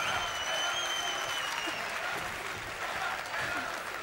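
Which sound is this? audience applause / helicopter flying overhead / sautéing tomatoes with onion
audience applause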